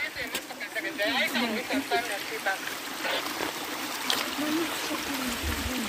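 Water flowing through a small stream down in a park hollow, a steady trickle and babble running under nearby people talking, with birds calling faintly in the background.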